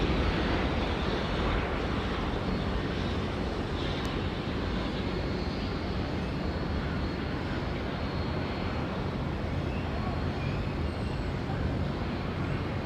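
Jet airliner taking off at Auckland Airport, a broad steady engine roar that holds evenly for several seconds at a moderate distance.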